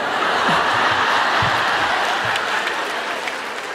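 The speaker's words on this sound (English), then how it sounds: "why are they applauding that?" A podcast studio audience applauds, a loud dense clapping that holds steady for several seconds and tapers slightly at the end, with a few chuckles mixed in.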